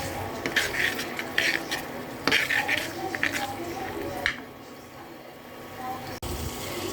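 Fish roe is stirred in a pan for a bitter gourd dish, with steady scraping and clinking of a spatula against the metal over a soft sizzle, then a brief quieter stretch.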